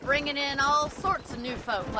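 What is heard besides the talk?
No everyday noises stand out.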